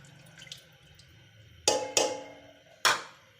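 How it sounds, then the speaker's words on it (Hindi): Water added to a pot of mixed moong and masoor daal, a few sharp splashing pours in quick bursts with ringing decays, close and clear against a quiet background. "तो चलें अब हम इसमें पानी ऐड करते हैं।"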